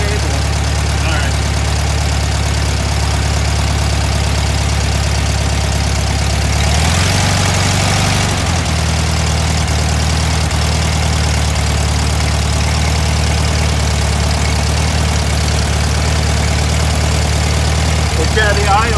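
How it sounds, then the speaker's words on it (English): An air-cooled Volkswagen engine idles high and steady during a tune-up, a loud continuous low rumble that swells briefly midway, with people talking over it. "the idle's really high right now"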